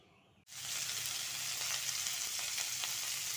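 Mustard oil hits a hot wok on a gas stove, bursting after a brief near-silence into a loud, sustained hiss that holds steady at close range.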